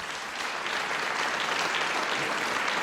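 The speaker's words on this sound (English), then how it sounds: "Give her a big round of applause." A crowd at a live music radio programme claps steadily and loudly throughout, a dense, even wash of applause with no pauses.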